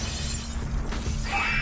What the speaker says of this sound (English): CG exploding glass,